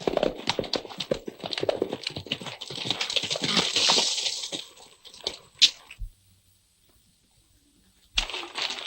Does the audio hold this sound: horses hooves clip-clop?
yes